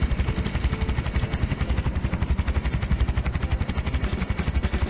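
Helicopter engine and rotor noise from the flight game Ultrawings 2, a loud, steady rhythmic thumping of blades pulsing rapidly over an engine drone, with no talking.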